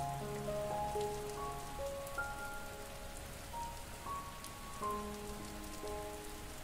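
Steady rain falls on a surface, a dense even patter with scattered drops, while soft sustained tones play alongside and no one speaks.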